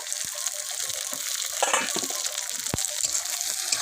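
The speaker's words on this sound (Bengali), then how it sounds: "টমেটোটাও একটু ভেজে নেবো মশলার সাথে" Constant bright sizzling of tomato frying with spices in hot oil, with a couple of sharp ticks and a brief crackling burst partway through.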